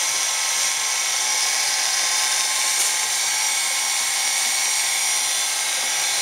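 A Hybco Model 1900 tool and cutter grinder runs with a steady, high-pitched mechanical whine and a constant hum. The sound is close, even and unbroken throughout, with no voices.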